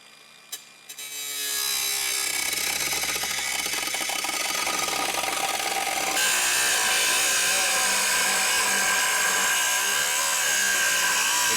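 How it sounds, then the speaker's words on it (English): A cutoff wheel slices through the aluminum heat shield on a 2020 Audi, a loud, continuous abrasive grinding whine that starts after a brief clunk and holds steady to the end. "now I'm going to come back with a cutoff wheel, and I'll get this cut out"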